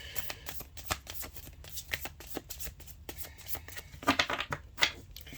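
Tarot cards shuffled and drawn from the deck in a close, steady riffle of papery flicks and slaps, getting louder and busier toward the end, with no talking.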